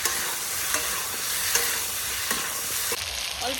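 Whole green chilies sizzle with potatoes in a pan for an Americano-style fish curry with potatoes, a steady close frying hiss broken by a few scrapes and stirs.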